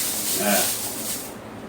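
Short pump sprays of eyeglass cleaner hiss close by, a burst of fine mist lasting about a second and then tapering off.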